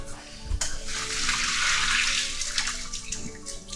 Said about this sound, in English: Drain off the water.